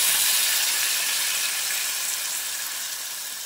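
Mustard and ginger paste frying in a pan gives a steady, bright sizzling hiss that stays even and fades slightly toward the end.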